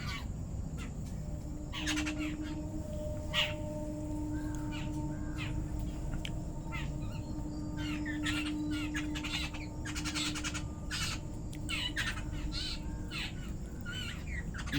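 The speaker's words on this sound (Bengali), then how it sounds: "দেখুন পাখিগুলো কি সুন্দর আনন্দে খাচ্ছে।" Crows caw and squawk repeatedly, close by and over one another, while eating biscuits scattered for them, with fainter chirps underneath and a steady outdoor hum throughout; no talking.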